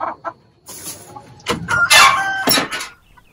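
Chickens cluck close by and a rooster crows loudly through the middle, with a few short clucks before and after.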